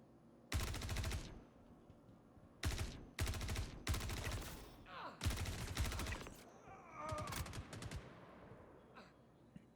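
Guards fire guns in a video game near ArcCorp's moons: several sharp bursts of rapid automatic gunfire, separated by short pauses, then scattered shots fading toward the end.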